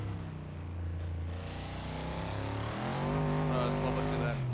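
A video game V8 car engine, its sound built from a Harley-Davidson motorcycle recording, gives a deep, loud, continuous rumble that holds steady, then climbs in pitch toward the end.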